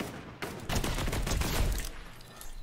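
Rapid gunfire from a Fortnite match, a dense close burst of overlapping shots lasting over a second, then tapering off, with no speech.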